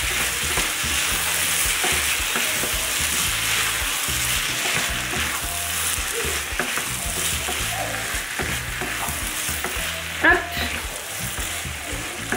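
Cream-based gnocchi gratin sauce being stirred in a hot pan, with a steady sizzle and frying crackle throughout and the soft scrape of a utensil moving through it, close and fairly loud.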